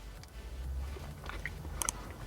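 Chewing on a Wingstop sweet BBQ chicken sandwich with pickles, soft close-up mouth sounds with a few crisp crunches near the end, quiet and alone.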